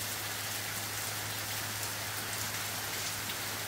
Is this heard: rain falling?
yes